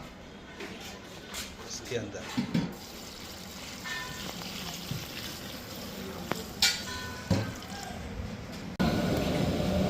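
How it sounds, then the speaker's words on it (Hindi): Vinegar-and-water mixture poured into a cooking pot while making sikanjabin syrup with sugar, giving faint splashing and trickling under a man's speech, ending with a louder rush of liquid. "और अब इस सिरके वाले पानी को डाल रहे हैं"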